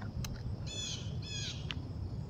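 A bird squawks outdoors, two short harsh calls close together with a few sharp clicks, over steady low background noise.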